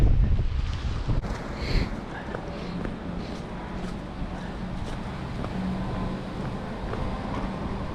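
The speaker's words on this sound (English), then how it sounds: "The wind's not quite so bad." Strong wind buffets the microphone on an exposed hilltop walk along High Tor above Matlock Bath, a loud steady rumble with brief gusts and faint footsteps underneath.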